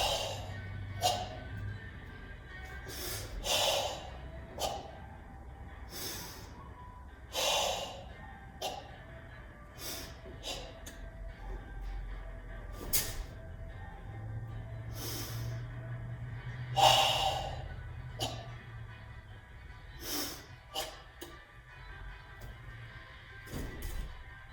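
Heavy, forceful breathing during Goju Ryu Sanseiryu kata training comes as irregular sharp exhales and snorts with longer hissing breaths between them, close and unaccompanied by speech.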